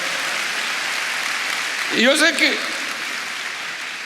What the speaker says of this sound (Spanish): Denle ese aplauso al Rey bendito.